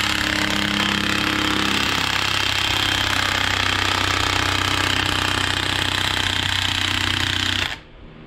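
A loud, steady power tool hammers away nonstop at a tap threading into a cup on a 1999 7.3 PowerStroke diesel engine, running close and unbroken for several seconds before cutting off abruptly at the end.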